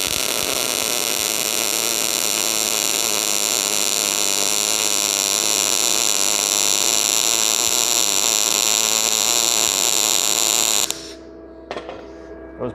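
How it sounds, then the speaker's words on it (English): A Tooliom TL-200M budget MIG welder lays a tack weld on the back side of a joint with a loud, continuous crackling buzz for about eleven seconds before cutting off abruptly, followed by a few faint clicks. "We're going to go for another tack on this back side."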